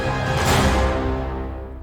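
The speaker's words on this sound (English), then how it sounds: "So sometimes I'll have those low brass horns." Massive, non-realistic low brass horns from an epic orchestral template hold a rich sustained chord at the end of a cue, swelling slightly before slowly fading, with no talking.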